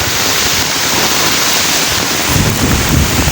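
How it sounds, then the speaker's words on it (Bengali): Strong wind from Cyclone Remal roars and buffets the microphone nonstop outdoors beside a farm, a loud, dense rushing noise with gusts swelling toward the end. "বাহিরে অনেক বাতাস দাঁড়িয়ে থাকতে পারছি না আমি"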